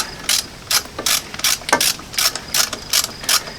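Socket ratchet snugging new exhaust manifold bolts on a 1995 Ford F250: about nine quick, close, loud bursts of clicking in a steady back-and-forth rhythm, with no talk.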